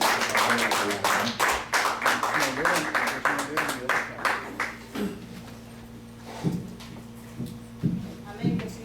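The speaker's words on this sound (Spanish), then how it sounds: "Recibamos con un fuerte aplauso" A church congregation at a Wednesday Bible study claps hard and steadily for about five seconds, then the applause thins to a few scattered claps as a voice begins speaking.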